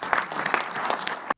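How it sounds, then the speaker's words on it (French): A brief burst of audience applause at a funding announcement, close and lively with distinct individual claps, cutting off abruptly. "Donc, nous pouvons applaudir."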